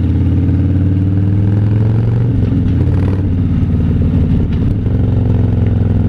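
A Harley-Davidson Fat Boy motorcycle engine runs with a steady, loud, deep low rumble that holds continuously throughout, with slight shifts in tone and no talk over it.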